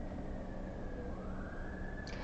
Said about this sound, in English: so I'm expecting a lot of sirens and a lot of people talking outside my window